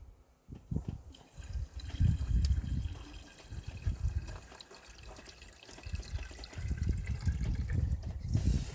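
Coolant is poured into the cooling system of a Peugeot 207 after the water pump has been removed, a soft, uneven gurgle and trickle of liquid that swells and fades over several seconds.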